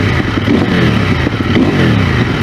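A 2023 CFmoto 800NK motorcycle set to street mode is revved while standing still. The engine is loud and near, and its pitch swells and sags over a rough mechanical idle, with no one talking.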